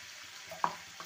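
A mustard, poppy seed and cumin masala paste fries in a pan, giving a faint, soft sizzle with a single brief clink partway through, no voices.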